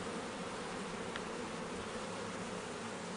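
Honeybees swarm inside an opened Langstroth hive, giving a dense, steady buzzing hum that holds at an even loudness throughout, close by, with no voices.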